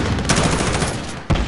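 Loud, rapid gunfire from the video game Warzone, a sustained burst of automatic shots with a sharp extra crack near the end, heard close and alone.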